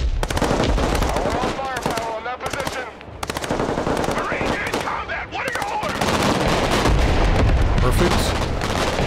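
Rapid artillery and gunfire bursts from the video game Broken Arrow, loud and dense, with repeated heavy booms across the whole stretch and a short voice speaking over it.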